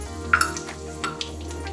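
Mustard seeds, cumin and asafoetida splutter in hot oil in a kadhai, giving a steady sizzle with a few sharp pops and crackles near the start.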